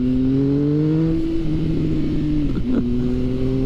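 A 2016 Triumph Speed Triple R motorcycle engine idles and revs with a deep, throaty exhaust rumble, steady and close, with a brief blip of throttle near the end.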